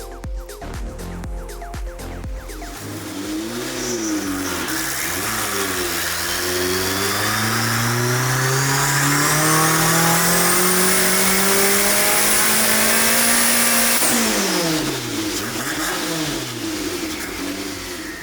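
Ferrari with a 550 WHP turbocharged Honda K20 engine swap, running down on power, revs loudly and close: sharp blips, then a long sustained climb in pitch before dropping back to throttle blips, with no talk.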